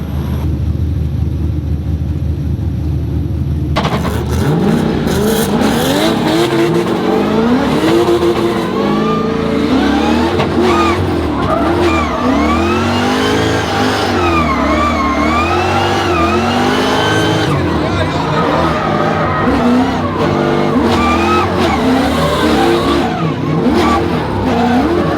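Loud V8 drift cars at Yas Marina Circuit in the UAE scream and rev continuously, engines wailing up and down in pitch with tire skids, a dense roar that fills the whole stretch after a brief quieter opening.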